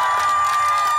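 Audience at the outdoor 'Karaoke on Maidan' TV show clapping and cheering in a dense, steady wash of applause and whoops, close and sustained across the moment.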